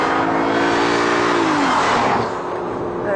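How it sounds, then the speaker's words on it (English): An Audi A6 on a test track, its engine rising in pitch as it accelerates steadily past, then easing off into a smooth cruising hum with broad tire and road noise. "So first up to test is the Audi"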